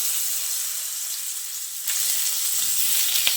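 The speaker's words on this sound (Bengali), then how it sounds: "এখন তেলটা ভালোভাবে গরম হয়ে এলে কেটে রাখা আলুগুলো দিয়ে দিচ্ছি" Cut potatoes go into hot mustard oil in a wok, and a steady hiss swells into louder, close sizzling as they hit the oil, ending with a brief clink.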